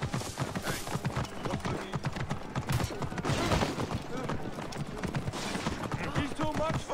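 Horses gallop in Assassin's Creed Origins, with dense, steady hoofbeats and an occasional whinny running throughout, mixed with game effects and voices.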